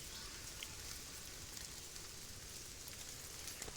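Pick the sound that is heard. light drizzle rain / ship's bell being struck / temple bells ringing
light drizzle rain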